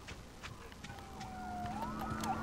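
Ambulance siren in the game The Last of Us, a faint, distant wail rising and falling under a steady background hum, gradually growing slightly louder.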